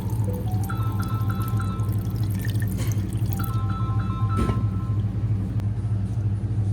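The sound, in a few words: milk with dates poured through a strainer into a bowl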